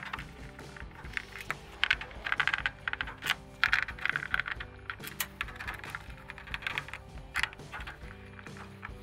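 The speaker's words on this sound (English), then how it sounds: "To remove your console cover, there are multiple screws around the perimeter that will have to be taken out." Phillips screws being removed from a Samsung washer console cover: irregular metallic clinks, taps and small clattering knocks of screws and driver, close and fairly quiet, with no talking.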